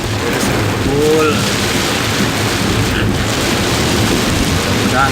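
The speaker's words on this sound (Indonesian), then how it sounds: "Hujannya sangat kencang" Heavy rain and strong wind pound down around Serpong, Indonesia, as a loud, dense, continuous roar of rainfall with gusting rushes, and a faint voice briefly surfaces beneath it.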